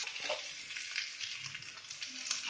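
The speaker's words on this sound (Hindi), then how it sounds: "इसमें अब मशरूम को डालकर फ्राई कर लेते हैं।" Mushrooms frying in a pan, giving a close, continuous crackling sizzle with small pops and hiss throughout and no talking.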